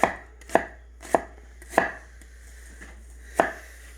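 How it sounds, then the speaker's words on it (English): A knife cuts through an onion onto a cutting board in five or six sharp, distinct thunks at an uneven, unhurried pace, close and clear with nothing else heard. "we're making cuts counterclockwise all the way up around the onion"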